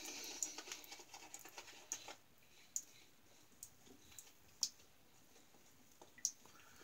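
Mountain Laurel shaving soap being worked into a lather with a brush: faint, wet squishing and soft scattered clicks, quiet and close, with a few sharper ticks.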